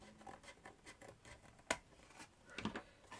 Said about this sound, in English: I will trim off anything we don't need, like that